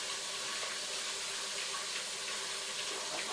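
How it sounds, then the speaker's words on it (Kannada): Water poured steadily into a pot of rice during cooking, a continuous close rushing splash with no break and no talking over it. "ನೋಡಿ, ನಾನು ನೀರು ಹಾಕ್ಕೊಂತಿದ್ದೀನಿ"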